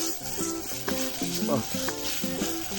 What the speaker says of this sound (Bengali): সুন্দর করে ভাজেন ভাই, তেলটা ভাজি